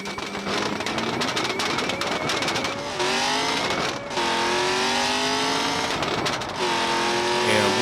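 Race cars accelerating hard in a BeamNG drag race, a V8 Lamborghini Huracan against a C6 Corvette ZR1, loud continuous engine roar with rising revs and gear shifts, a brief dip near the middle, no talk.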